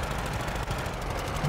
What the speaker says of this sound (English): The engine sounds are really crazy in this game now